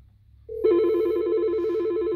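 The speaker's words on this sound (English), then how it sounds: "And so now it's ringing that phone." An IP desk phone on a peer-to-peer SIP call ringing: after a short click, a single electronic ring tone starts and holds steady with a fast warbling trill, loud and close, with no talk over it.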